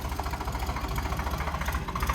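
A Swaraj tractor engine pulls a seven-tine plough sowing wheat in a field, a close, steady, throbbing low diesel drone with a pulsing rhythm and no talk.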